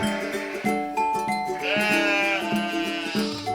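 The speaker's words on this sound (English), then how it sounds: "It's time to feed the adult sheep." Adult sheep bleat repeatedly on a farm at feeding time. Several loud, close, wavering cries overlap and follow one after another, with no talking.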